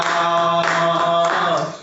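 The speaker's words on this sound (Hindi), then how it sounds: "सारे मिलकर ताली बजाओ" A worshipping congregation claps hands together in rhythm while singing, a dense layer of claps under a sustained sung melody.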